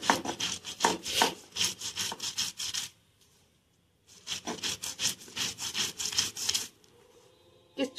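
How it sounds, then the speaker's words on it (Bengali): Soaked lentils (dal) being ground into batter, a rhythmic rasping scrape in quick repeated strokes, two bursts separated by a short pause, close and fairly faint. "ডালটা এবারে বেটে নেবো আমি।"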